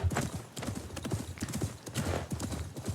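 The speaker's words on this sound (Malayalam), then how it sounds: "ഞാൻ വിചാരിച്ചു കുതിര ഓടിയെന്ന്" A galloping horse in Assassin's Creed Mirage gives a steady, loud clip-clop of hooves throughout, with a brief whinny and faint game ambience beneath.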